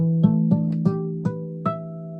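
Five soft bell-like harmonics plucked on the guitar's open strings one after another, each chiming clearly and ringing on as the next is added, alone and close.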